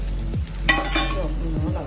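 Potatoes dropped into a hot pan sizzle loudly and steadily up close, with a few metallic scrapes and clinks of a utensil against the pan.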